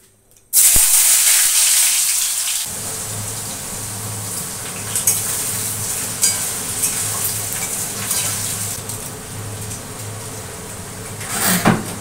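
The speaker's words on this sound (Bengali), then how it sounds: "দেখো আমার তো তেলটা গরম হয়ে গেছে, আগে আলুগুলো ভেজে নিই।" Potatoes frying in hot oil in a home kitchen pan, a steady close sizzle that jumps in suddenly after a brief quiet start and carries on evenly, with a louder burst near the end.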